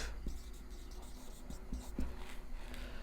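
Pen or marker scratching out a sentence on a board during an English grammar lesson, a run of short, quiet strokes and taps at an uneven rhythm over steady room hum, with no talking.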